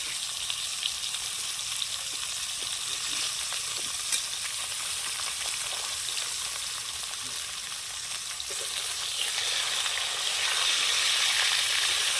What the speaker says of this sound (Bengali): সবজিগুলো একটু হালকা ভেজে নেব আর বেশি নাড়াচাড়া করব না